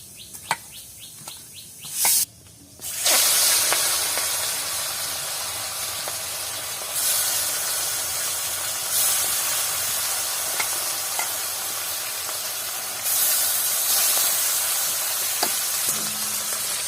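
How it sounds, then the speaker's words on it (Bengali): Fish pieces rubbed with salt and turmeric fry in hot oil, one by one, in a Bengali home kitchen. A steady, close sizzle with loud bursts of crackle runs through the whole clip, with a few sharp clinks of a utensil near the start. "এবার আমি মাছগুলোকে ভেজে নিচ্ছি, এক এক করে সবগুলো ভেজে নেবো মাছগুলো।"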